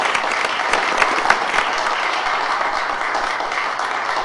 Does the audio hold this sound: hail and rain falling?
no